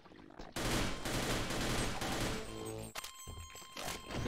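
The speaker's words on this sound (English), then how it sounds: "I'm throwing a grenade." In the Half-Life co-op game Sven Co-op, a thrown grenade bursts with a loud, sustained blast amid gunfire, followed by a short drop and more rumbling game noise.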